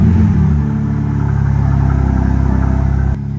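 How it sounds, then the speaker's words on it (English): BMW M4 G82 cold start, a loud close engine roar that settles quickly into a steady, fast, high idle rumble before abruptly dropping to a lower idle near the end. "We're gonna do a nice little cold start."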